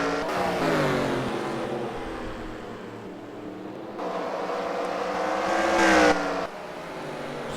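Race car engines in a sim racing game at Delaware, a whining multi-tone drone of several cars running close together, with the pitch rising and swelling as a car accelerates near the end.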